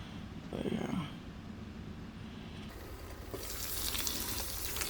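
Potato and egg taco filling frying in a pan, a soft steady sizzle with a brief stirring scrape early and a brighter hiss swelling near the end, close by and without speech.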